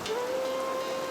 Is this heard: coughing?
no